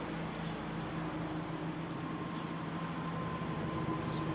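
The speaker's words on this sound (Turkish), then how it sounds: "Yakıt düzenlemesi yapıldığı için egzozun sesi bile düzeldi." A car's exhaust idles steadily after a fuel system fix for black smoke, a low continuous rumble with a faint hum, unchanging and moderately quiet for the whole stretch.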